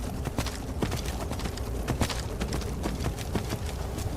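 Horse hooves clip-clop in the video game Skyrim, a quick, steady run of close, loud hoofbeats over a constant rumbling background, with no talking.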